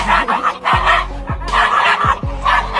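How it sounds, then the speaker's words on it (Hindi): Two small dogs fight while held on their owners' laps, giving loud, close, rapid yapping barks and snarls in quick overlapping bursts. "ये दोनों कुत्ते अपने अपने ओनर के गोद में बैठकर एक दूसरे से लड़ रहे हैं"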